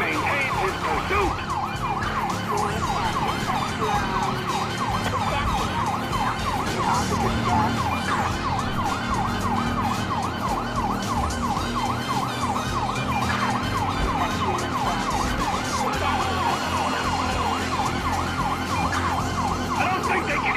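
Police sirens wail continuously in a Grand Theft Auto V car pursuit, loud and steady throughout alongside engine and road noise, with no speech.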